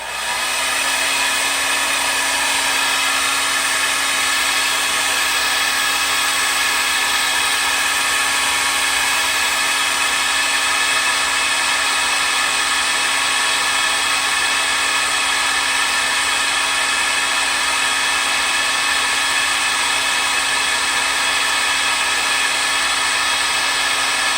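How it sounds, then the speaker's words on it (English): A hair dryer blows continuously at a steady high whir, loud and close, with no talking. "I'm going to take my blow dryer real quick. We're going to dry that off."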